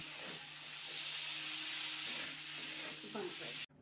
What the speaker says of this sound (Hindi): मैं सब्ज़ी को थोड़ी देर और भून लेती हूँ